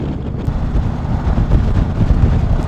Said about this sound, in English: I am getting a little bit of buffeting around my head and around my shoulders